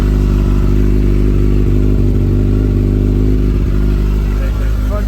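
A 2021 Kawasaki ZZR1400 motorcycle idles steadily while warming up, a loud, constant low engine drone with a slight clattering texture throughout.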